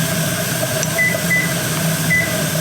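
A kitchen timer is set for 10 minutes while pressure canning pork loin, giving a few short, evenly spaced electronic beeps over a steady humming background.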